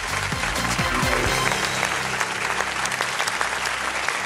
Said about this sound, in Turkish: Alkışlarla onları yerlerine alıyoruz.